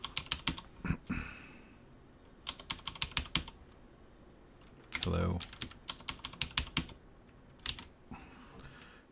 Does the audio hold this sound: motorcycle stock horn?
no